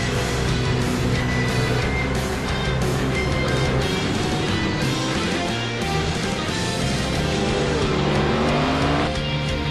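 Race car engine heard from the cockpit camera of car number 32 in a racing video game at Indy, a loud continuous roar with shifting revs and tire noise throughout, no talk.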